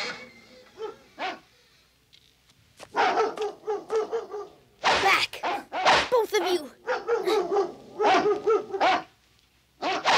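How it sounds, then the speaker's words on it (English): Several dogs in a Jungle Book cartoon episode bark in loud, close, repeated bursts, with some whimpering and yips and voices mixed in. "Why are the dogs making all that noise?"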